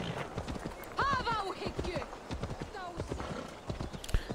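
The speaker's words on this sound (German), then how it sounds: "Da reite ich lieber auf mein Pferd." Horse hooves clip-clopping with a whinny while riding in Assassin's Creed Valhalla, game audio heard beneath steady speech from a player.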